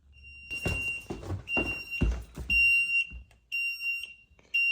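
A Notifier NFS-320C addressable fire alarm panel, initializing during a home system test, emits steady high-pitched beeps in repeated tones, with several clunky thumps and handling noises in the first half.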